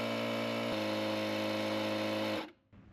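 An ETENWOLF Vortex S6 portable air compressor runs at a steady, buzzing motor whine that drops slightly in pitch as it nears its target pressure, then cuts off abruptly, leaving only faint background noise.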